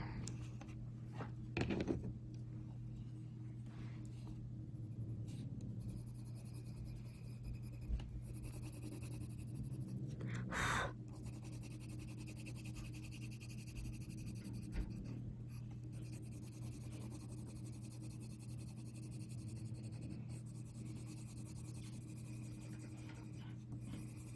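Coloured pencil scratching steadily across paper during a colour-along session, a quiet continuous scraping with a few brief louder catches where the lead snags on the paper's tooth.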